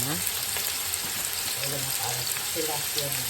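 Garlic sizzles in a hot pan with a constant crackling hiss, while a utensil stirs it in short scraping strokes close by.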